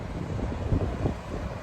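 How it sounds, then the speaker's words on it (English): Wind gusting steadily across a microphone during a bicycle tour through Yellowstone, a continuous low buffeting rumble with no voices. "Wind is picking up"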